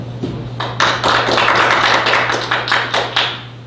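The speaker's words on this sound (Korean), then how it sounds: "박수 보내주실 거죠?" An audience claps in response to a speaker's greeting at a Korean speech lecture, a burst of many hands that builds quickly, stays steady for a few seconds, then begins to thin out.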